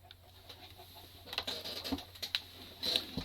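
Minecraft chickens on a chicken farm give soft, scattered clucks and chirps, several overlapping calls at low volume against a quiet background.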